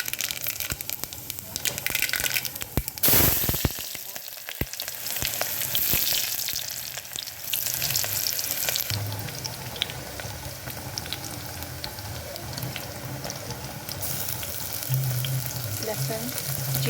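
Oil heated for sambar sizzles steadily and loudly in a pan, with a sharp crackling burst early on, then a dense, even hiss that continues to the end without speech.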